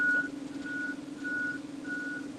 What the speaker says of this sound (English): We've got some forklift traffic here